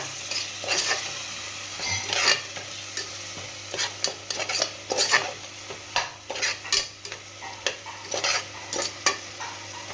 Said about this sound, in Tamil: நல்லா கொஞ்சம் அந்த பச்சை வாசனை போகிற வரைக்கும் ஃப்ரை பண்ணுங்க, வதக்குங்க.